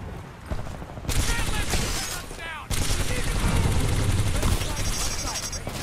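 Rapid L-Star energy gun fire in a Titanfall 2 match comes as dense, loud bursts with a brief break partway through, layered over other battle noise, with some talk mixed in.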